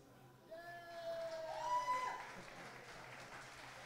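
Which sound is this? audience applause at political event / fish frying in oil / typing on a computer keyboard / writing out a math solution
audience applause at political event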